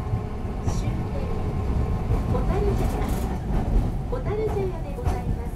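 Nagasaki chin-chin tram running on its line toward Hotarujaya terminal, a steady close rumble of motor and rails with faint squeals, with voices and announcements over it.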